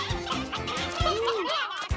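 Cartoon chickens cluck and squawk in a busy rapid jumble with wavering warbling calls, close and loud, over a steady animated soundtrack backdrop.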